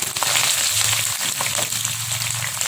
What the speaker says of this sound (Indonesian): Di sini saya panaskan minyak sayur, lalu kita goreng